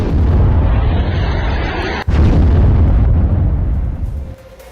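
An army strike hits a terrorist camp at Muridke, producing a loud, sustained roaring rumble with a sharp crack partway through. The blast noise fades toward the end.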